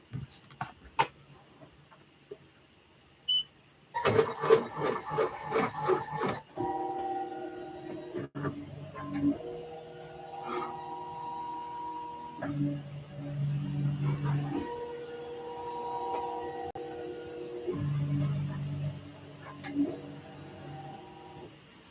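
An embroidery machine traces a design around an in-the-hoop bib or burp cloth, giving steady mechanical whirring and motor hum that shift in pitch as the hoop moves, with a brief burst of louder clatter near the start.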